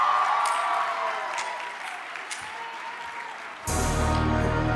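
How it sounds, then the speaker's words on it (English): An audience claps at the HMUN 2026 closing ceremony, a Model UN conference. The dense applause slowly tapers off, then a louder, fuller burst of sound cuts in abruptly near the end. "Clap it up for Rahul."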